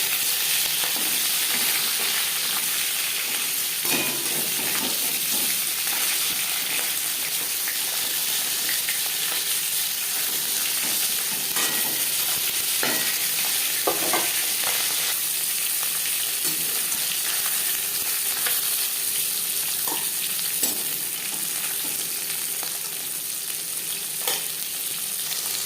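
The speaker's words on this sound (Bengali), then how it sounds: "প্রথম ব্যাচে মাছ ভাজা হয়ে গেছে।" Rohu fish pieces fry in hot oil in a wok, giving a continuous loud sizzle with occasional scrapes and clinks of a spatula, no voices.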